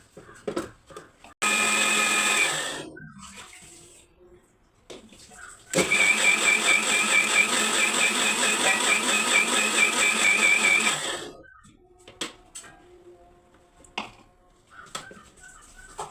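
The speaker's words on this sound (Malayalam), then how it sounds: "മിക്സിയിലിട്ടിട്ട് അടിക്കുക" A mixer grinder whirs loudly in two bursts, a short run then a longer one of several seconds, with quiet gaps and faint clatter between.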